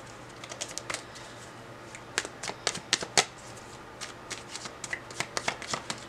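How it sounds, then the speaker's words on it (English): Tarot cards are shuffled and handled in short, crisp riffles and taps, quiet and close, arriving in irregular bursts with small gaps between them. "Let's go ahead and get our second card on the right side."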